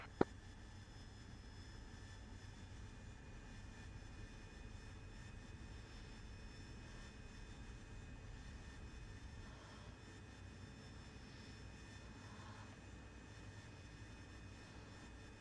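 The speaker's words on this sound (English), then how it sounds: "Taking off." An aircraft in a video game takes off, a steady low engine roar and hiss that holds evenly throughout at a faint, distant level, with a single sharp click at the very start and no talk.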